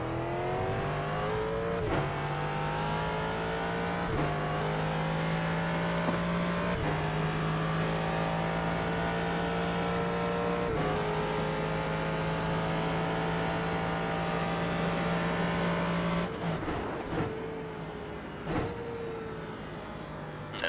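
Ford GT3 race car lapping Suzuka in the iRacing sim, its engine droning loud and steady with rising revs through the gears and sharp drops at each upshift or braking zone.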